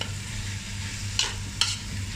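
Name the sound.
tomatoes being sautéed for Malabar chicken biryani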